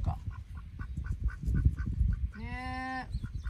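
A farm duck quacks in a short, loud, nasal burst close by, following a stretch of rhythmic clucking and scratchy farmyard noise, with no one speaking.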